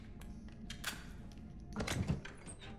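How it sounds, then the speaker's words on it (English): A pistol being loaded in the game Resident Evil 3: soft mechanical clicks and taps followed by a heavier thunk and rattle of the magazine seating, close and fairly quiet over a low background hum. "load the pistol up."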